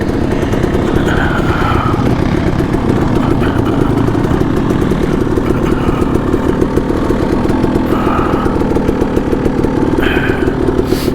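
Kawasaki KLX140RF dirt bike running along single track in Payson Canyon, Utah, its small engine buzzing loud and close with rhythmic throttle changes and revs.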